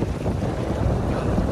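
Steady, roaring seaside wind buffets the microphone, with a constant low rumble and no voices.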